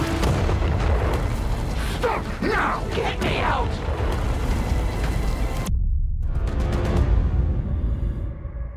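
A detonated device explodes in the sci-fi space combat game Chorus, a loud sustained boom and rumbling blast that cuts off abruptly, followed by a quieter tail of crackling debris.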